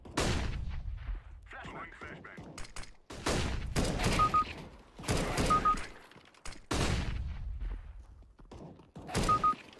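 Gunshots in Counter-Strike: Global Offensive, with headshots landing: several sharp, loud rifle reports in separated bursts, each ringing out briefly, with small beeping tones in between.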